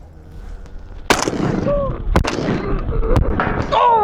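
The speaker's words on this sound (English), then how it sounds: "Oh, I missed my third shot." Three sharp, loud shotgun blasts ring out during a pigeon hunt on a dairy farm, with voices and bird sounds faintly in the background.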